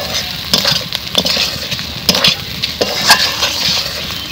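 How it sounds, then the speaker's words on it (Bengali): Pre-fried eggs stirred into a sizzling spice masala in a pan: a steady, close frying hiss with repeated scraping and clinking strokes of a spoon against the pan, and no talking. "ডিম দেওয়ার পরে আমি আরো একটু সময় কষিয়ে নেব।"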